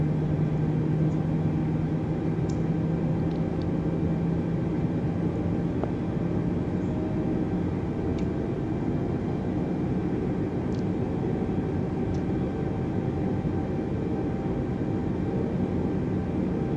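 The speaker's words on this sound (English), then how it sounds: "These engines sound great on this A320 and in the sim" Steady jet engine roar from an Airbus A320neo in Microsoft Flight Simulator 2020, a continuous broadband drone with a low hum, holding even and fairly loud throughout with no talking.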